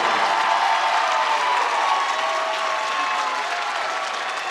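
Northwood student body standing and applauding in a high school basketball gym during a 3A semi-state game: dense, sustained clapping mixed with crowd cheering, steady and loud, slowly easing off.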